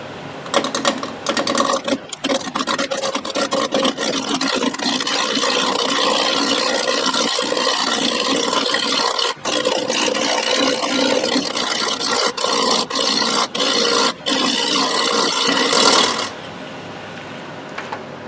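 A 4x4 block of wood spinning on a lathe while a gouge cuts it, a loud continuous chattering rasp broken by brief gaps where the tool lifts off, ending with a quieter hum of the lathe running alone.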